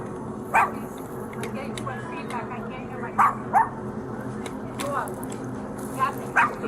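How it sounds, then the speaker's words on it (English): A dog barks in several sharp bursts spread through the stretch, a few closer and louder, while people talk steadily underneath. "Can't stop the dog from barking."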